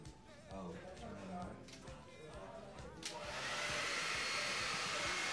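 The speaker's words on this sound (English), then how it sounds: "And a hairdryer." A hairdryer switches on for melted crayon art on poster board, a loud steady blowing hiss that starts a few seconds in after people talk and then runs on alone.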